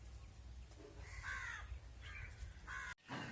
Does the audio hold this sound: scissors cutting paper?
no